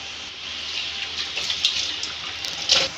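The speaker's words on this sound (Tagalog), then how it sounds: "May hugas naman ng gulay." Water runs and splashes steadily as vegetables are washed for a vegetable soup with fermented fish paste, a close, continuous rush with a few brighter sloshes toward the end.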